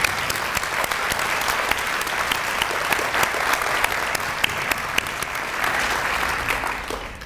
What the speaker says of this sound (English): Please join me with one last round of applause for all our winners tonight.